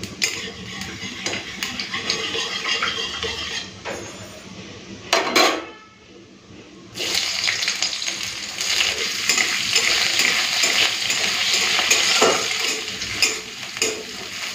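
Nigella seeds and chopped onion crackle and sizzle in hot mustard oil in a pan, a steady loud frying hiss with a brief lull partway through and occasional stirring and utensil clatter.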